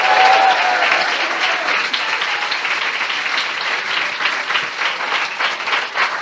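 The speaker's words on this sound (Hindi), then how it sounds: "क्या हम ऐसे प्रभु के लिए जोरदार ताली बजा सकते हैं?" Loud congregation applause at a church sermon, a dense and sustained wave of clapping that fills the room, with a few voices mixed in underneath.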